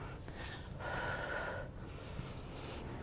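Breathing from a person doing a full-body bodyweight workout, with audible snort-like and gasping breaths, a strong sustained exhale in the middle, over a steady low background hum.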